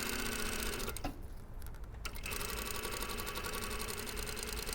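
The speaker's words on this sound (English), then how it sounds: "So there's our second row of stitching" A sewing machine runs the second row of stitching on a French seam, a steady close mechanical whir that briefly dips near the one-second mark and then resumes.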